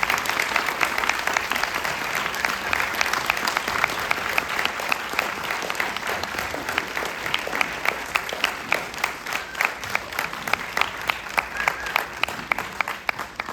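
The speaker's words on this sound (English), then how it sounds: "That applause is not enough" A festival audience gives sustained, dense applause for a young singer, loud and steady throughout with sharper individual claps standing out toward the end, and a voice talking faintly over it.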